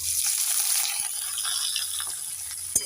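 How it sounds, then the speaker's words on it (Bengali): Chopped onions drop into hot oil with fried tempering spices and sizzle in a steady, close, bright hiss. A small clatter sounds near the end. "এবার দিয়ে দেব কেটে রাখা পেঁয়াজ"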